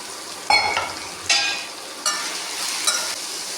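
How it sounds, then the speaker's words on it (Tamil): Finely chopped bitter gourd with seeds removed sautéing in a pan, a quiet background sizzle broken by four sharp bursts of scraping and hissing as the spatula stirs, close up. "இந்த பாவக்காவை கொட்டையை நீக்கிட்டு பொடியாக அரிஞ்சிட்டு அதில் ஆட் பண்ணிக்கோங்க. நல்லா கொஞ்சம் வதக்கிக்குங்க"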